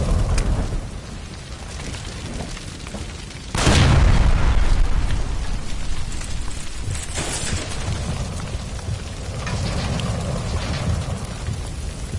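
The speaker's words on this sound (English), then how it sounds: "Shoot the gas line, Cole, we're out of here!" A gas line by a stove explodes in the video game L.A. Noire, a loud boom striking suddenly about a third of the way in, then a long rumbling, crackling roar that lingers at high level.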